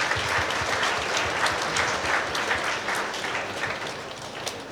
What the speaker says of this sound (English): can you give him a big round of applause for him?